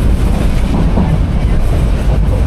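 Steady loud rumble and rattling clatter fill the interior of a local passenger train, the Nasirabad Express running from Feni to Chattogram, with continuous wheel and carriage noise throughout and no break.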